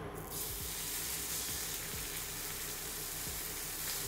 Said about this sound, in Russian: Как только сковородка задымилась, отправляем жариться стейк.